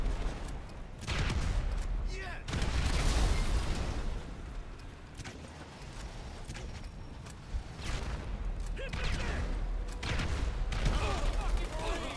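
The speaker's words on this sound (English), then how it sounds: "Yo, he shot me." Rapid gunfire bursts in a GTA V shootout, dense and loud with overlapping shots and impacts across the whole stretch, heard alongside excited talking.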